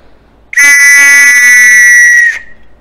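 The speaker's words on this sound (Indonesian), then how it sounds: "Tahu dong, bener ini peluit." A small whistle gives one loud, shrill, sustained blast lasting about two seconds, starting sharply and cutting off cleanly in an otherwise quiet indoor room.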